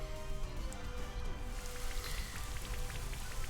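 Rain Dance in a Pokémon video game brings a steady, soft hiss of falling rain with faint scattered droplet taps, continuing evenly without speech.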